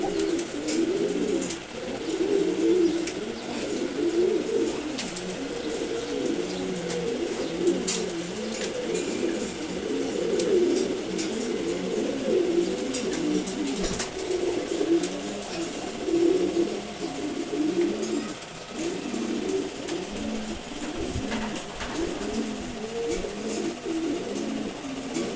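Sobji Gorra pigeons coo steadily and repeatedly at close range, a continuous layered murmur of overlapping low calls with no talk.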